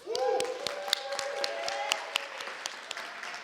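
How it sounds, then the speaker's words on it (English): Sparse clapping from a small group at a human rights awards ceremony, scattered claps at first that thin out gradually, with a voice briefly audible at the start. "Just one more round of applause."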